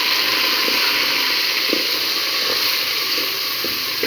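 Chopped onion and green chili sizzling in hot oil in a pan after meat has been fried, a steady close hiss and crackle with a few brief spits, no talk.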